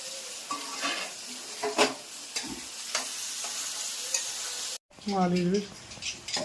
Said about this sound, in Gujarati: ટમેટા બટેટા ને તુરિયા નો વઘાર